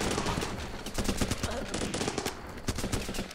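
Rapid rifle gunfire from the Running with Rifles video game, dense overlapping bursts of shots filling the whole stretch, loud and continuous with faint voices underneath.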